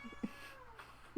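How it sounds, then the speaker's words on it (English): A cat meows a few times in short, complaining bursts, fairly close, with a brief pause between calls. "So if you hear a cat in the background, she's mad."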